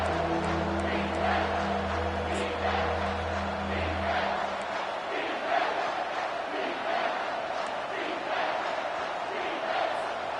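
Home crowd cheering at a football game, a loud dense roar of many voices that swells and holds steadily, with a low hum fading out after the first few seconds.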